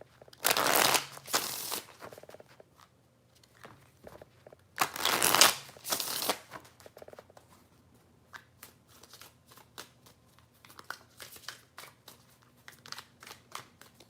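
Tarot cards shuffled by hand in two loud riffling bursts, followed by softer scattered card taps and slides, with no voice over them.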